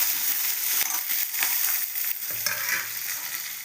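Chopped onion with cashews, green chillies and dried Byadgi chilli sizzles in a pan for millet upma, a steady close frying hiss broken by scraping stirring strokes.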